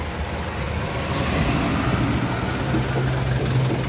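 A yellow truck idling and running nearby, a steady low engine rumble with a sustained hum entering partway through, continuous and fairly loud, no voices heard.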